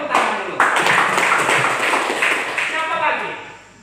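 A group claps together in a classroom lesson, a dense steady patter of hands that is loud and close, with voices mixed in, fading slightly at the end.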